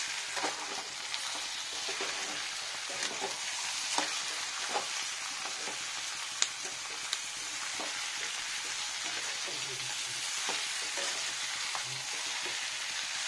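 Drained chicken fries and gets stirred in a pan, a loud continuous sizzle with intermittent scraping and occasional sharp clicks of a spoon on metal, close and steady throughout.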